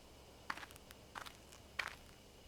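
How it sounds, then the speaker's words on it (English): Footsteps drawing closer through bushes in a horror adventure game, three soft crunching steps spaced evenly over a hushed, still background. "I hear footsteps again."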